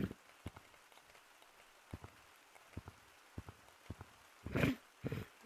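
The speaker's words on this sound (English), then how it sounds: "Cloud hat. It rains!" Rain from a cloud hat in the video game Gorilla Tag, faint scattered droplet taps in an irregular patter with a brief louder burst near the end.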